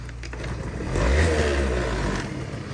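A Honda Dio AF34 scooter engine, warm, idles and then revs up briefly before settling back, a close, steady buzzing drone.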